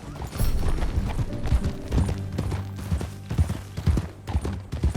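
Horse hooves clop at a steady riding gait in Red Dead Redemption 2, a western video game set on the frontier, close and rhythmic, with game music and ambience running underneath.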